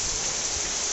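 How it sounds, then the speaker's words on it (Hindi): Heavy rain pours down hard in a hill region during a hailstorm, a dense, unbroken hiss of downpour with no voices. "इतनी भयंकर बारिश हो रही है कि हमको रुकना पड़ा भाई"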